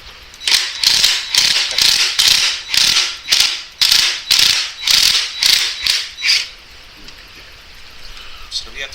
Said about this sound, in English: Now we're going to work on getting the chain tight with the tensioner in the back here